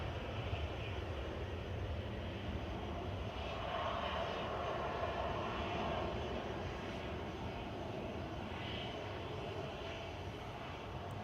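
A Sun Express Boeing 737 Max 8, registration EI-HMX, passes at Manchester Airport, its steady broadband engine roar holding even and fairly loud for about eleven seconds, with no voices.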